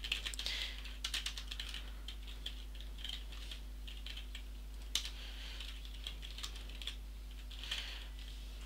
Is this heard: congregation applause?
no